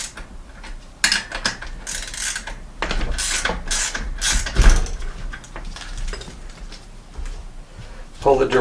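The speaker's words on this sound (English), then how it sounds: "make sure that you're shifted into the lowest gear on the back." A bicycle rear derailleur shifts into the lowest gear on the back, giving a series of close ratcheting clicks and mechanical whirring bursts with a brief voice in between.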